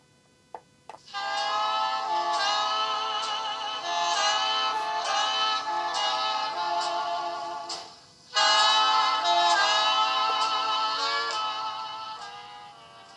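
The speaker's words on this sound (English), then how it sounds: "We'll show you that replica of the gramophone with a tone arm fitted as well." A replica Bang & Olufsen gramophone with a tone arm plays a record with a rich, sustained tone and steady harmonics, loud and close. The sound breaks off briefly partway through, then resumes and fades slightly.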